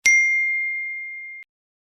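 A single bright notification bell ding rings out on its own, sharp at the start and then ringing steadily for over a second before cutting off cleanly.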